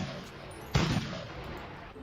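A single cannon blast in the video game Wizardcraft, a short, sharp boom with a brief rumbling tail, moderately loud over faint background game noise.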